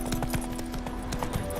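Horse hooves in The Witcher video game, a steady galloping clip-clop of game sound effects mixed over a constant droning background score, with no talk.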